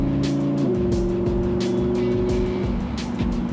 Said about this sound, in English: In race mode, the transmission is mind-bogglingly fast.